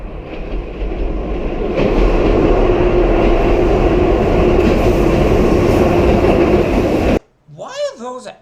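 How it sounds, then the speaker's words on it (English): A train roars loudly and steadily through a tunnel, a dense rumbling clatter that cuts off abruptly, followed by a brief voice. "the train was approaching"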